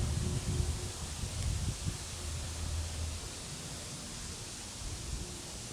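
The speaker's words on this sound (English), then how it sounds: "You can hear and see the quaking aspens back there" Steady rustling of quaking aspen leaves in a breeze in a cottage garden, a soft continuous hiss with low wind rumble, slightly stronger at first then settling.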